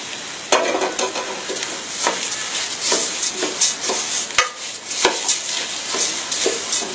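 Polao rice frying in a mix of ghee and oil, a steady sizzle with repeated scraping stirs of a spoon against the pot and no talking.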